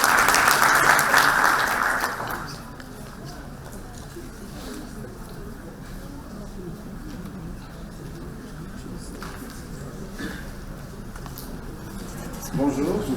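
Audience applause for a speaker at a scientific conference on sustainable engineering, a loud burst of clapping for about two seconds that quickly fades into quiet room noise and scattered sounds.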